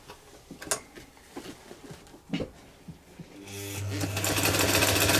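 A budget leather sewing machine stitches two layers of soft calf leather, starting with a few scattered clicks and taps, then running into a loud, continuous mechanical whir that builds toward the end.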